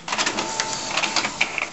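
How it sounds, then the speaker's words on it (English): An Epson SX405 inkjet printer starts printing, giving a close, loud mechanical whirring with rapid clicks and buzzing carriage movements. "So I'll press start on the printer and you'll see the printer started into motion straight away."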